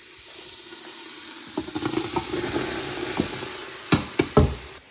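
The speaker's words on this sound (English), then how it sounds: "I'm just gonna let this saute for about 5 to 8 minutes until like the onions are soft" Yellow Vidalia onions and quartered mushrooms sauté in a pan with a steady close sizzle, broken by several knocking stirs that grow louder toward the end.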